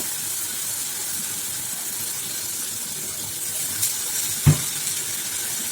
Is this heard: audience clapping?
no